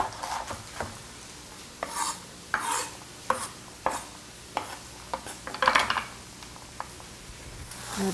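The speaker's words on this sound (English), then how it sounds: "Keep sauteing." Celery sautéing in a hot pan gives intermittent close scraping and stirring strokes, with soft sizzle underneath and short bursts spaced a second or so apart.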